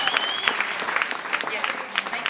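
A big round of applause at a World Cleanup Day award ceremony, dense and steady clapping from a crowd, with a voice faintly heard under it.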